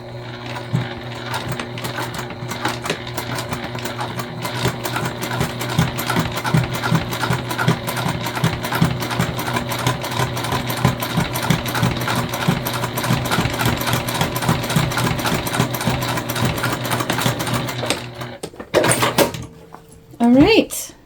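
A sewing machine top-stitches a bag, running in a steady, fast mechanical chatter for most of the stretch before stopping, followed by a few brief clicks and handling sounds near the end.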